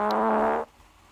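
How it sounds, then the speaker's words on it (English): A video game character blows a loud mouth fart, a short buzzing raspberry lasting about half a second before cutting off into quiet. "He makes a loud farting noise with his mouth."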